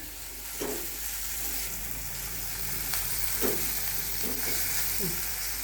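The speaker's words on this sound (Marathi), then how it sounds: "म्हणून आधी फोडणीमध्ये कोथिंबीर मी घालून घेणार आहे" Fresh coriander sizzles in hot oil for a tempering, a steady crackling fry with occasional stirring scrapes of a spoon in the pan.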